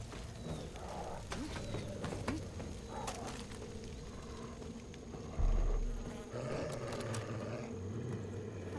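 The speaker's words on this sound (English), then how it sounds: "I hear bees." A swarm of bees drones steadily in the Far Cry 5 video game, a continuous faint buzzing with scattered light clicks and game ambience, no talking heard.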